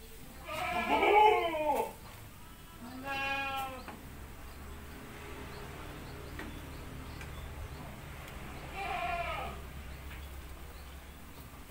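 Etawa goats bleating in a pen, three separate wavering calls spread across a steady low background hum, the first loudest and close, the later ones slightly softer.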